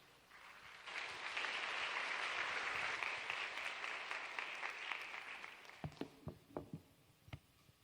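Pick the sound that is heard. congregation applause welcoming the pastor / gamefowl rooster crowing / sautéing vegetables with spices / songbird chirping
congregation applause welcoming the pastor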